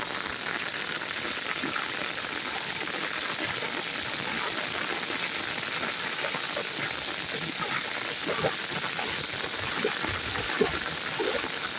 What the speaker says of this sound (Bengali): আকাশ আবার ভারী বৃষ্টিতে তীব্রতর হয়ে চলে আসছে।